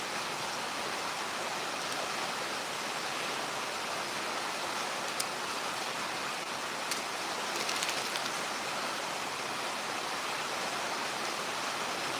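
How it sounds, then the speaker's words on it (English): Steady, even rain hiss fills the whole stretch with no pauses, a dense wash of droplets with a couple of faint clicks poking through. "with the rain in the background"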